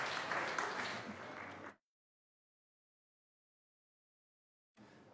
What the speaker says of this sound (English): if you would all join me in giving them a warm round of applause